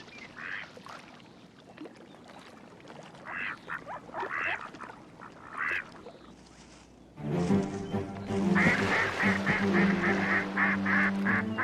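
Ducks on water quack in scattered calls at first, then a louder burst of rapid, overlapping quacking and honking that sounds close.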